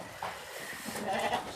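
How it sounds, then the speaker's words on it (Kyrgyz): A lamb bleats at a livestock sale among sheep, a soft, wavering call rising over a faint noisy farmyard background, moderately distant and not loud. "Азыр көрсөтүп аткан козу ушул, ушул."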